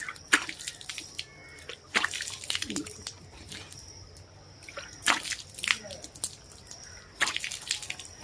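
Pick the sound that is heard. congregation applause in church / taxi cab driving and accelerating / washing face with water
washing face with water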